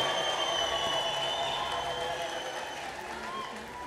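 Church congregation in Addis Ababa clapping together during worship, a dense, steady wash of many hands that holds at an even level throughout and eases slightly toward the end.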